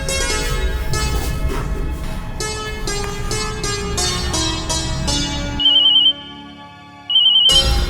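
A phone ringtone rings loudly and repeatedly, a melodic tone pattern that cuts off, pauses briefly with a faint beep, then starts again, with no talking over it.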